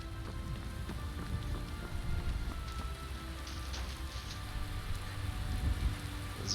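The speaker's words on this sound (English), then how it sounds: "There comes the rain." Steady rain falls in a video game, a dense, continuous patter of drops on surfaces that is fairly loud throughout, with no voices.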